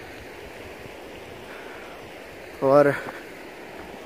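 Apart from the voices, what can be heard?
water flowing at a mountain lake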